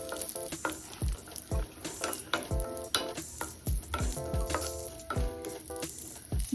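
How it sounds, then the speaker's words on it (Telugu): Quarter cup of cashews fry over a low flame for protein laddu, a soft continuous sizzle under a rhythmic series of spoon scrapes and taps against the pan. "ఒక 1/4 కప్పు జీడిపప్పులు వేపుకోవాలి. సిమ్లోనే పెట్టి వేపుకోవాలండి."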